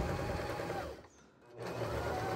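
A sewing machine stitching a necktie seam with a backstitch, a loud close whirring motor that briefly slows and drops away, then runs up again at full speed.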